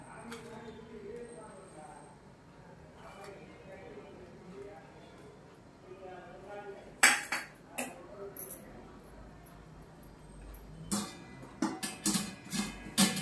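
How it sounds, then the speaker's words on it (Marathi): A tin of mango rava cake batter tapped on a surface, a burst of sharp knocks in the second half followed by another cluster of taps, after a stretch of speech. "ह्यातले एअर बबल जाण्यासाठी थोडंसं आपण टॅप करूया."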